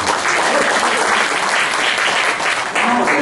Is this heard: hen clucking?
no